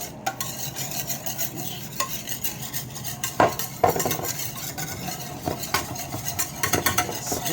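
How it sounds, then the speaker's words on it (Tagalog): Chicken pieces in a marinade of olive oil, tomato paste, mustard, salt and pepper being stirred, giving a continuous wet, squelching churn with sharp clicks of a utensil against the bowl, close by and without talk. "Olive oil, tomato paste, and mustard, salt, pepper, and mix it"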